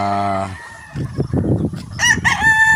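Young hens (pullets) at a game farm cluck and squawk nearby amid general poultry noise, with a harmonic crow-like call at the start and a brief burst of calls near the end.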